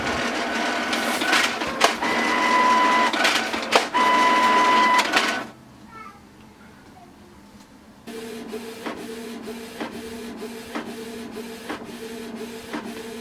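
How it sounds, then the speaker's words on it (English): A Canon TS3320 inkjet printer prints a page, with whirring feed motors and clicking, then a brief quiet pause and a regular rhythmic shuttling of the print head, loud and close. "And now just wait for the print to come out."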